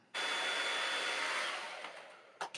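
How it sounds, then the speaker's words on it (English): A hair dryer switches on and blows with a steady, loud broadband whoosh for about two seconds, then briefly falters near the end. "Oh, it's a hairdryer."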